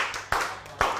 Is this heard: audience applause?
yes